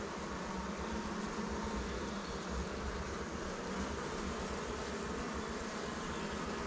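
Honeybees swarm around an opened hive frame during a colony check, a dense, steady buzzing hum that fills the air close by without a break.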